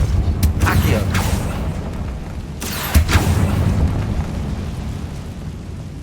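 Spell blasts in a Harry Potter wizarding video game, two sharp explosive bursts a couple of seconds apart with booming low rumble between, while a player shouts spell names.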